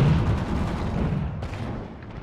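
Continuous gunfire in the video game Halo 4 (Warzone mode), a dense, steady barrage of shots with no talk over it, fading slightly toward the end.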